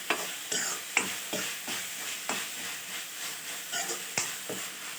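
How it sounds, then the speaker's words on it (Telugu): Roti noodles fry and sizzle in a pan with a steady hiss, broken by repeated scraping stirs and clicks of the spatula at a close, even distance, with no talking. "చూడండి, మంచిగా వేగుతుంది"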